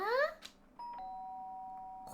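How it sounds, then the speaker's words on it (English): A doorbell chime rings in the Danganronpa video game, a clear sustained two-tone ding that holds steady for over a second, following a brief murmured voice. "The sharp sound of the doorbell pierced my sleeping haze and pulled me back to the real world."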